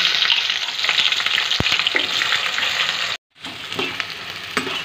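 Chopped onions fry in hot oil in a pan for doi mutton, a loud, continuous close sizzle with occasional stirring clatter and a brief sudden dropout partway through.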